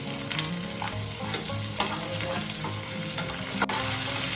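Cashews fry in hot oil in a pan alongside garlic and onions for an Indian lunch, a steady sizzle broken by a few scraping stirs and clinks of a spoon, with no talking.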